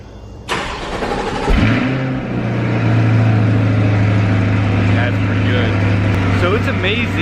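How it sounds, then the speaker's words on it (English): A 2020 C8 Corvette, mid-engine, fires up from cold inside a garage through its performance exhaust: a starter whir, then a sharp loud bark settling into a steady, deep, booming idle that fills the enclosed space. "a cold start, especially in a garage, with the performance exhaust, is pretty loud"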